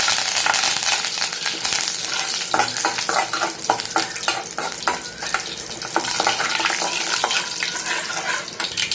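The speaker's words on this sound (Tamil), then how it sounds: "கடுகு நல்லா பொரிஞ்சு வரட்டும்" Mustard seeds and cumin crackle in hot oil as a loud, close, continuous splutter, with dense rapid pops and bursts of spitting over a steady hiss and no talk.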